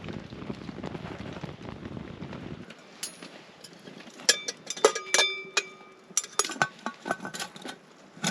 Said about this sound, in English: just another little bit of hail and mixed with rain.